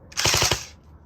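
A T238 airsoft gun fires a short full-auto burst with a tracer unit, four rapid, loud, close mechanical pops in under half a second.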